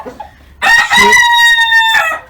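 A small village rooster crows loudly and close, one long drawn-out call ending with a short trailing note, after some soft clucking.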